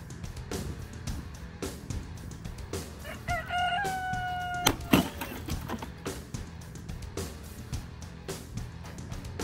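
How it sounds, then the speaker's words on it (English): A rooster crows once outdoors at medium distance, its long rising-and-falling call standing out over a steady bed of broadband background noise and scattered thumps. "I have my rooster cheering me in the background as well"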